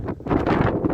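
Strong Nord-Ost wind on the Markhotsky ridge roars loudly and steadily across the microphone in broad, buffeting gusts, very close and with no voices.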